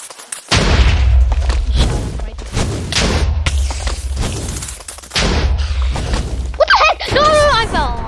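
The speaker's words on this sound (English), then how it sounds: "Me and that other creeper killed each other with explode." Explosions from the creeper explode ability in the Super Smash Mobs video game, several loud booming blasts with crackling debris, spaced a couple of seconds apart amid game noise and excited talk.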